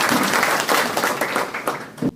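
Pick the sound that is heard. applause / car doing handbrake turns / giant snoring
applause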